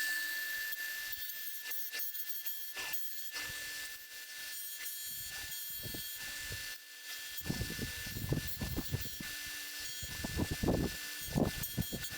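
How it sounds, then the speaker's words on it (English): A disc sander grinds down a Lexan polycarbonate lip for a pike lure, a steady motor hum broken by repeated bursts of gritty, rasping sanding, close and loud, with no talking. "I'm just going to use the disc sander here to get it down to size"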